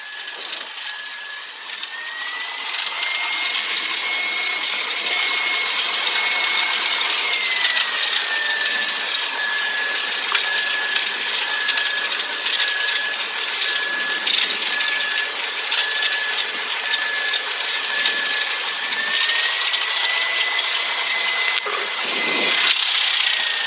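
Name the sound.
light aircraft engine idling while taxiing after landing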